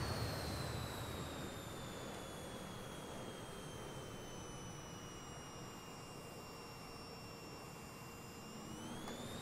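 Steady roar of a T1 Hawk jet engine in Microsoft Flight Simulator, a broad rushing drone with a high whining tone that slowly falls then rises near the end as the throttle comes up.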